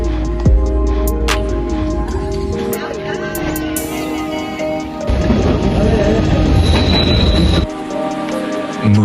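A train climbs toward Schilthorn summit in the Bernese Alps of Switzerland, its wheels squealing and carriage rumbling loudly and steadily throughout, with shifting metallic whines and clatter close by.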